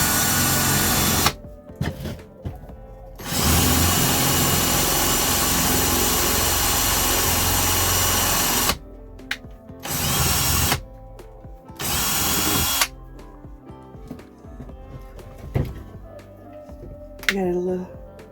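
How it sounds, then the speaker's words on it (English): Several loud bursts of a power drill whirring, stopping and starting, with quieter gaps between them where a voice speaks briefly. "then I'm just going to drill into it"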